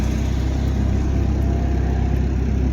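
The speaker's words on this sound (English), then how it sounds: "That's a truck hauling a truck hauling a truck" A truck hauling other vehicles rolls past nearby, a steady loud low engine rumble and road roar with no break.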